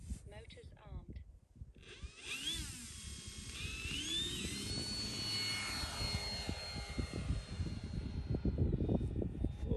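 The electric motor of an E-flite Draco RC airplane spins up to a rising high-pitched whine after quiet handling noises, then holds a strong buzzing drone with the propeller, close and growing louder toward the end.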